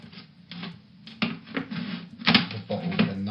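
Knife cutting into a plastic bottle, a run of close, irregular crackles, taps and crunches with a few sharper snaps near the end and no talk.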